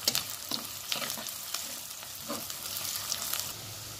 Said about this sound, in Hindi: अभी हम इसमें लहसुन की कली मिला लेंगे, गार्लिक चॉप कर लिया हुआ गार्लिक, इसके साथ थोड़ा ब्राउन कर लेंगे प्याज को।